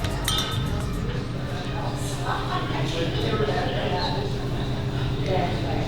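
Wine glasses clink together in a toast at a winery in North Carolina's Blue Ridge Mountains, a few bright taps near the start over steady room murmur and people talking.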